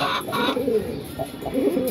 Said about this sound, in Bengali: আর এইখানে এক পেয়ার কবুতর আছে